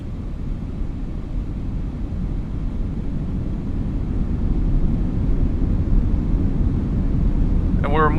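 Four C-17 Globemaster III jet engines in reverse thrust during a slow pushback in Microsoft Flight Simulator 2024, a steady broad low roar that swells slightly over several seconds, with a brief chirp near the end.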